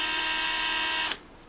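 An electric drill runs at steady high speed while sanding a Smith & Wesson M&P 9mm trigger part, a loud even whine that cuts off abruptly near the end.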